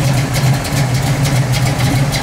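A 1970 Pontiac Firebird idles steadily with a deep, rumbling engine note, loud and close, holding an even rhythm with no talking.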